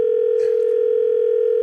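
Steady telephone dial tone on a radio show call line, a continuous loud hum held unbroken for the whole stretch, with a brief faint rustle partway through.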